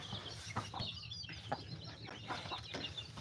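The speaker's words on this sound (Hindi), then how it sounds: "मेरी मुर्गी के साथ ये वाला चूज़ा है" A hen clucks in short soft bursts at a relaxed, uneven pace, fairly close, with faint background noise.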